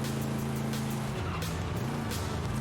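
Lynk & Co car in Forza Horizon 5 driving hard with a loud engine drone that dips and climbs in pitch, mixed with tire squeal and skidding noise throughout.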